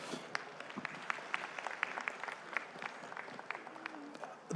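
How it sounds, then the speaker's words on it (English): An audience claps at the Vesak festival in Mississauga, a steady patter of many hands with a few louder claps, with voices murmuring underneath. "Round of applause, everybody."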